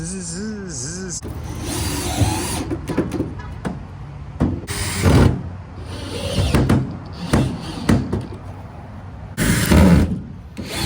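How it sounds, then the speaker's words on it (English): A power drill drives self-tapping screws into the floor of a jon boat, giving several short, loud whirring bursts close by, with a voice now and then between them. "Got a bunch of these self tappers, and I'm just gonna go for it."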